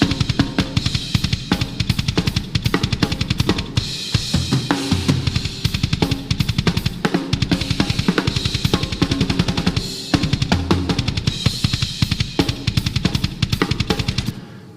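Metal drum kit captured with close, room and overhead microphones, fast relentless double-kick and snare patterns with crashing cymbals, loud and dense for the whole stretch, no voices.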